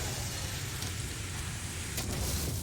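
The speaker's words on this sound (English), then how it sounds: "so it's raining, and this plant definitely looks wet" Steady rain falls inside a video game world with a cave and wet plants, a constant even hiss of drops across the whole stretch with a brief brighter patch near the end, no voices over it.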